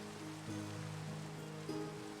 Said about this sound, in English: It's nice to just sit and look at the rain.